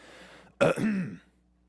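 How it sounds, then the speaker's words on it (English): A single short throat clearing, close and fairly loud, from a broadcaster reading a news segment. It is a harsh rasping burst lasting under a second, then quiet. "there was a specific note to clear my throat when saying representative"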